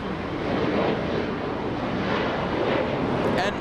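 A JetBlue airliner arriving at Los Angeles International Airport from Seattle makes a steady, broad jet roar at moderate distance, blended with outdoor wind noise.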